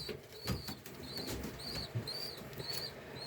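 Pigeon flapping its wings as it escapes out a door: a quick burst of soft wingbeats, with repeated faint chirping bird calls continuing through the background.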